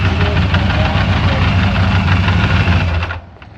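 A 1650 cc motorcycle engine with LS-style cathedral-port architecture runs loudly up close with a steady rumbling idle, then cuts off near the end.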